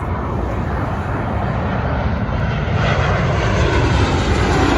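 A Qantas passenger airplane passes overhead near Broome, a loud, steady engine roar with broadband rumble that swells slightly toward the end, with no talk over it.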